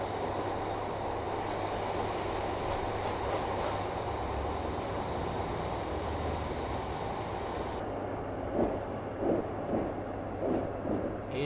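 Class 142 Pacer diesel railbus running in Train Simulator, a steady rumbling drone of engine and rolling wheels that continues evenly throughout, with rhythmic rail-joint clicks toward the end.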